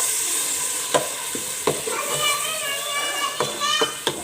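Peas and onions sizzle softly in a pot for matar pulao while a utensil taps and scrapes the sides at irregular intervals, with someone talking and children's voices in the background.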